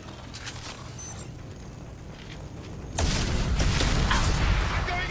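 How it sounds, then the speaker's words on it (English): Gunfire in the Mass Effect Legendary Edition video game: a heavy barrage of booming, crackling shots bursts in midway over a rumbling background and continues loudly to the end, with a voice speaking briefly. "Shooting!"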